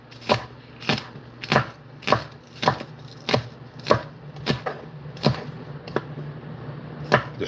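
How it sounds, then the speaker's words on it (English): A knife chops green onions on a cutting board in about a dozen crisp, evenly spaced strokes, close and clear against quiet kitchen background noise, with no talk. "And cut up our green onions."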